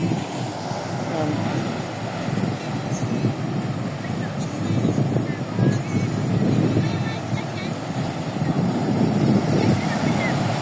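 Sea waves surge and splash up against jagged rocks on a rocky coastline at Cape D'Aguilar, Hong Kong, a steady broadband roar of surf with gusty wind buffeting the microphone throughout.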